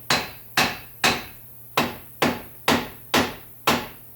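Eight sharp metallic hammer blows strike the inner tie rod of a 2005 Chrysler Town and Country, each ringing briefly, spaced about half a second apart with one short pause, close and loud.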